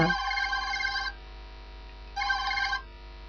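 Telephone rings in a horror video game: two bursts of a bright electronic bell, the first about a second long and the second shorter after a pause, loud and close with no talk over them.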